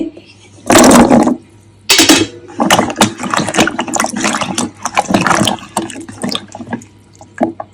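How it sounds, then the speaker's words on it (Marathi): Running water splashes in a sink in bursts as fig fruit is rinsed and the water poured off, with a few clattering handling noises in between. "एक पाणी आहे ना, ओतून देते."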